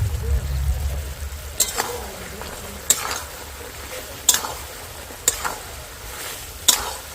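Ground roasted spice is stirred into melted jaggery for a sweet-sour elephant apple (chalta) pickle, with five crisp, evenly spaced spoon scrapes against the pot over a soft, low simmering hiss, close by.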